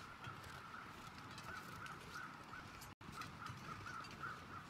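Birds calling in the video game The Long Dark: faint, distant honking calls repeating irregularly over a steady windy hiss, briefly cut by a momentary dropout, with no voices.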